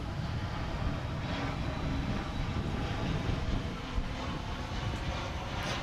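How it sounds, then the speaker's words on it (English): A Frontier Airlines jet at Dallas/Fort Worth Airport gives off a steady, broad engine roar that holds at a moderate distance for several seconds without voices. "I think we got us a Frontier aircraft here."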